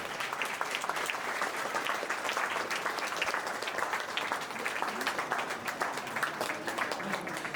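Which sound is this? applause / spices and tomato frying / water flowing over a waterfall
applause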